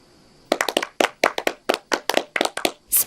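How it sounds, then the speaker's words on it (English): Half-hearted clapping from a cartoon character: about a dozen sharp, dry hand claps close up, in slow, uneven bursts with short pauses between them, alone against near silence. "Spare me your half-hearted applause."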